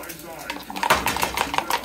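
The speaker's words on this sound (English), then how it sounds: "she flips it with the skillet." An egg flipped by tossing the skillet while making breakfast, a quiet sizzle then a clattering pan jolt followed by rapid light metallic rattles and scrapes, with faint voices in the background.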